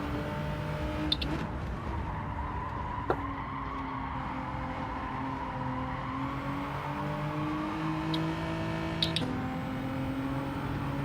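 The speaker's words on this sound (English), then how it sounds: "hitting that ripple strip before was brutal" A race car in Gran Turismo 7 at Laguna Seca runs over a rumble strip, with a steady engine drone, tyre noise and a few sharp knocks and rattles, heard alone without talk.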